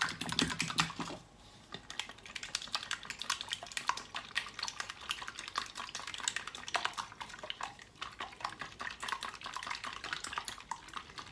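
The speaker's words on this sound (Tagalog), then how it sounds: "Ibibit natin ang 4 na egg." Four eggs being beaten by hand for butternut squash and shrimp okoy, a fast, steady run of light whisk clicks against a bowl, close and continuous with no talking.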